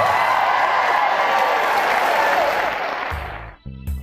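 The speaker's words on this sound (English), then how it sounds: "Thunderous applause." A live audience at a stage show breaks into thunderous applause, a dense roar of clapping that holds strong, then thins and cuts off near the end as low tonal sounds take over.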